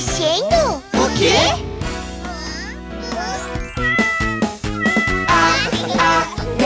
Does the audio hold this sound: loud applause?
no